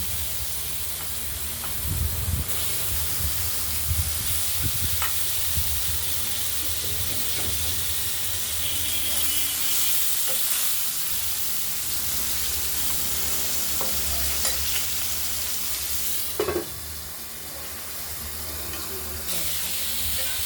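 Potato pieces fry in oil with dried red chillies and black and white cumin, a continuous close sizzle and hiss. Occasional stirring scrapes stand out, with a brief louder clatter near the end.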